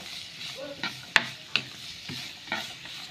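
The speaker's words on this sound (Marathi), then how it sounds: "आनी मागीर पियाव कट केलो आहा तो घाता आनी तो मातशें भाजीता पियाव फ्राय करता" Chopped onion frying in a pan for vegetable cutlets, a soft sizzle under occasional stirring scrapes and sharp clinks of a utensil against the pan, close up.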